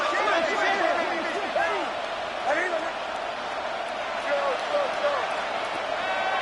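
Stadium crowd at a football game, a loud, continuous roar of voices and cheering that stays steady throughout, with announcers talking over it.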